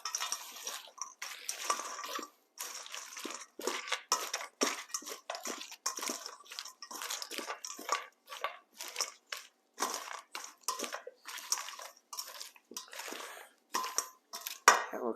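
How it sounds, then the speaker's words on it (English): Salad with dressing and croutons is tossed in a bowl, giving a string of crisp, crunchy rustles and light clinks in short irregular bursts, close and fairly quiet with brief pauses between. "I'm just going to toss it with some of the croutons as well"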